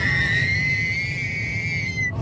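A sustained high-pitched scream holds steadily for about two seconds from someone riding in a car on a family road trip, over a constant low engine and road drone.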